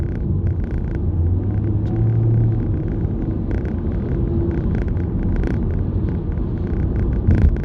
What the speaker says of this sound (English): now I'm gonna press the accelerator and I'm gonna force the car to downshift 1